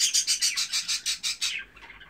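Newly arrived budgerigars chirp in a rapid, regular series of about a dozen bright, close calls, then trail off into softer twittering.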